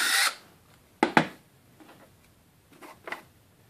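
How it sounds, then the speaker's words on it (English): Short drill bursts bore a small hole in the corner of a helmet ear cup, a brief high whir at the start followed by a couple of quick sharp zips and faint ticks, close and unaccompanied by speech. "I drill a really small hole right in the corner of the ear cup"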